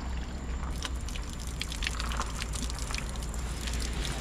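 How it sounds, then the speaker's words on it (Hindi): Soft, continuous trickle of a small stream of water beside a mountain road in Uttarakhand, a gentle splashing flow heard alone at low volume. "यहाँ पे पानी देखा, पानी की धार देखी"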